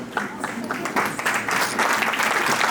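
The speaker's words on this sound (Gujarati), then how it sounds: "જોરદાર તાળી" Applause from a standing audience at a 50th wedding anniversary stage show, a dense continuous clapping that builds slightly over a few seconds.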